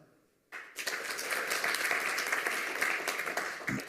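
A conference audience at a lightning talks session breaks into sudden applause after a quiet moment, loud dense clapping that swells and holds steadily, as if practicing a signal.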